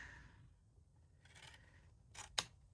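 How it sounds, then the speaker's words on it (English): Scissors trim paper along a score line for a Valentine ephemera craft: a soft, quiet cutting rasp, then a couple of crisp, close snips near the end. "I'm going to go ahead and trim this along"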